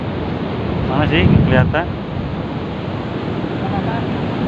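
Wind and surf on Karapyak beach in Pangandaran, West Java, a steady broadband roar of waves and gusting wind across the microphone, with a brief voice speaking over it early on.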